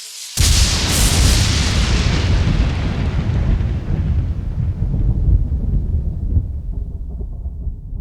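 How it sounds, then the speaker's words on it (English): A huge explosive blast of lightning erupts with a sudden loud boom, then rolls on as a long, heavy rumble that slowly fades over several seconds, with no voices. "a blast of lightning larger than anything she or nature had ever produced exploded up into the sky"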